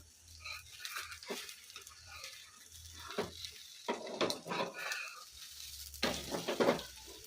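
Talipattu flatbread sizzles in oil on a hot pan as it is flipped, with soft scraping and clattering bursts over a faint low hum; no one speaks.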